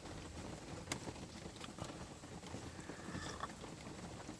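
Heavy rain falls in a steady, dense patter with scattered sharper drops and a soft rushing wash, continuing evenly at moderate distance with no voices.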